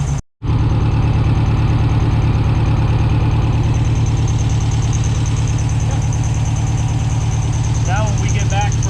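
A 1971 VW Super Beetle air-cooled engine idles steadily and loudly for the whole stretch, a constant low drone after a brief dropout at the start, with faint higher squeaks near the end.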